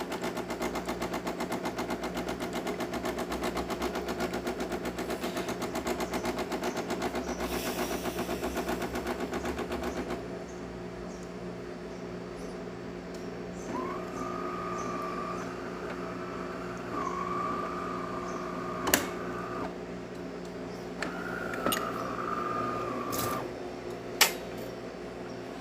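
A DeLonghi Magnifica super automatic espresso machine runs its rinse cycle, giving a loud, steady rattling pump buzz that drops in level partway through, then brief whines and a few sharp clicks, with no talk.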